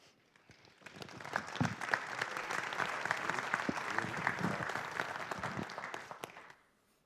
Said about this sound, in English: that might be the first time I've heard the town administrator get applause